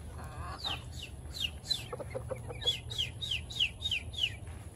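Baby chicks peep in quick, repeated high chirps, a small flock close by on a farm with a few soft clucks mixed in over a low rumble.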